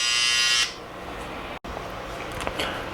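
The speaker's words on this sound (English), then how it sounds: "Now let me show you how it acts when the trimmer is set properly." An electric hair trimmer with a properly set blade buzzes loudly and steadily for a moment, then cuts off, leaving quieter handling noises and a brief silence.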